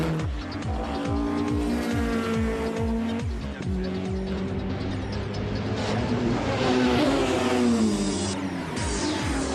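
Several race cars roar past at close range during the 24 Hours of Nürburgring race, engines revving and shifting pitch, with tires squealing and overlapping engine noise throughout.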